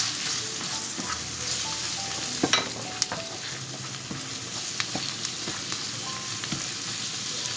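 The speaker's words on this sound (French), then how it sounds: "On va ajouter toutes les épices d'un seul coup. On mélange bien." Spices stirred into a pastilla filling frying in a pan, giving a continuous sizzle with scattered utensil taps and scraping strokes, and no one talking.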